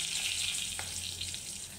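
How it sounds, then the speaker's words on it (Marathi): Curry leaves sizzle in hot oil with asafoetida for a tempering, a soft steady frying hiss with faint crackles close by and no speech. "आता कढीपत्ता टाकतो आहे"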